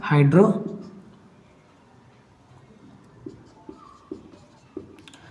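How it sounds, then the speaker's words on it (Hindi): Marker or chalk strokes tap on a classroom board during a class 10 chemistry lesson, coming as a few short, distinct scrapes after a brief burst of voice, close and fairly quiet. "तो ऐसा लिख लेते हैं"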